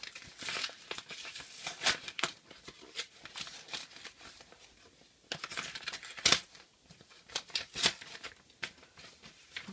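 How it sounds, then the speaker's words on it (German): Paper envelope being torn open and handled at close range, a series of crisp crinkling rips and rustles in uneven bursts, no talking. "der Umschlag ist geöffnet"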